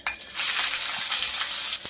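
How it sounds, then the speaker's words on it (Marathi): Onion fries in hot oil with cumin, mustard seeds and curry leaves, giving a loud, close, continuous sizzle with faint stirring scrapes and no talk. "आता कढीपत्ता टाकून याच्यामध्ये कांदा चांगला भाजून घेऊयात"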